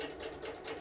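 Sewing machine backstitching a rag quilt seam, a brief steady motor hum with a faint pulsing needle rhythm, heard alone at a low level.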